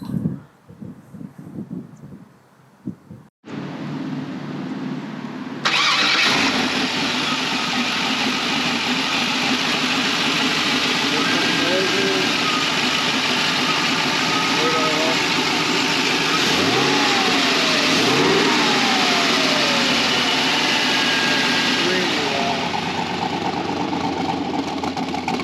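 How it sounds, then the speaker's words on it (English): A 1932 Ford Hi-Boy Roadster street rod with an LS1 V8, first a few clicks and rustles, then the engine cranks and fires up, settling into a loud steady idle with several blips of revving, recorded close. "now we'll go ahead and get in the street rod and fire it up"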